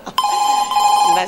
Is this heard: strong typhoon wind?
no